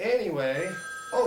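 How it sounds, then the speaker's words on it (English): A telephone bell rings in short bursts with a brief gap between them, while someone speaks over the first ring. "that's the phone."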